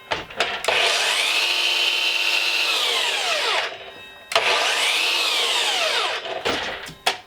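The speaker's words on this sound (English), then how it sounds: "I just want to turn this on and just see how, get a feel for how good this drop saw is" A DeWalt DCS356N cordless drop saw whines loudly in two long runs, each spinning up, holding a steady high-pitched tone, then winding down with a falling pitch. Brief clicks come between the runs.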